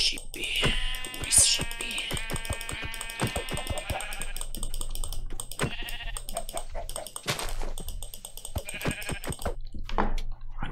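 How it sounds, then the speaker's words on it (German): Sheep bleats from a flock in the video game Minecraft, several short bleats near the start and mid-way, with keyboard clicks and typing rattling alongside and a person talking over them. "Hier ist eine ganze Schafherde."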